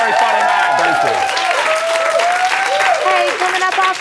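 A studio audience at a Big Brother UK 2008 spin-off show gives loud, sustained applause and cheering for a comedian, with music playing over it and some voices in the mix.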